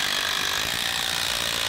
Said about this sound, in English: a lot of times people hear somebody using an impact driver and they think they're stripping the screw out